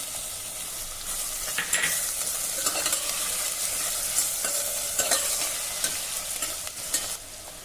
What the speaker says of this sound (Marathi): आता मध्यम आचेवर हे कांदा लसूण हलक्या तांबूस रंगाचं होईपर्यंत आपण मस्त परतून घेऊ